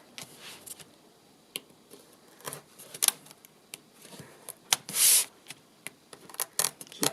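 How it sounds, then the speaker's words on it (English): An X-Acto knife cuts out a marquetry piece in a quiet series of short, crisp scratches and clicks, irregular and close, with one longer rasping scrape near the middle. "Keep cutting. And I do everything with an X-Acto knife."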